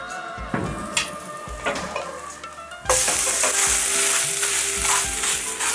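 A chickpea flour omelette frying in oil in a pan under a lid, with soft sizzling and small stirring clatters that jump to a louder, steady hiss about halfway through.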